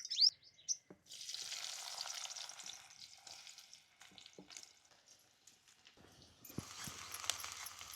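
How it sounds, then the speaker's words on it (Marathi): Chopped onion hits hot oil in a pan while a Marathi dal of desi field beans is being cooked, setting off a sudden loud sizzle that settles into a steady crackling hiss and flares up again near the end. "आता कांदा टाकायचा"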